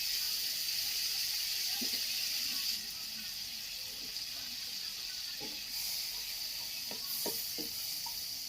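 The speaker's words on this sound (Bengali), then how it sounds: "সেই বাটারের ভেতরে পিসগুলোকে একটু ভেজে নেব" Beetroot pieces frying in butter in a wok, a soft, steady sizzle and hiss heard faintly and evenly, with a few light clinks from stirring.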